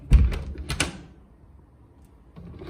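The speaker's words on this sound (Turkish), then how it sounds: "Kapıyı da kapatayım da sesten uyanmasın." A bedroom door is pushed shut at night, giving a few close knocks and a thud with a brief creak, then quiet room tone.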